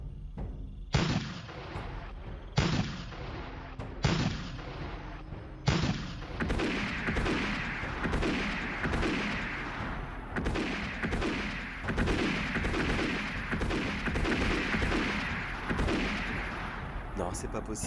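Heavy thuds of cannon fire from a Gettysburg battle boom out in separate blasts, then give way to dense, continuous rattling musket and gunfire punctuated by repeated cannon booms, loud and close.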